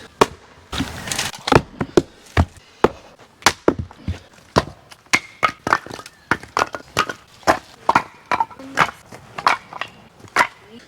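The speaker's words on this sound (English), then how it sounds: "See if we can chop this big boy. This would be so much easier with a normal axe." Firewood being split, a big log struck again and again with a makeshift tool rather than a normal axe in the Victorian high country: sharp woody cracks and thuds land in a steady series of about two dozen close, loud hits.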